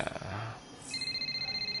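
A phone rings in the F1 23 Braking Point story mode, a brief notification chime followed by a steady electronic ringing tone, clear and close.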